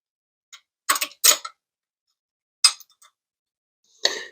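Metal bolt being fitted into a bracket on an old car left in a field: a handful of short, close metallic clinks and rattles separated by pauses.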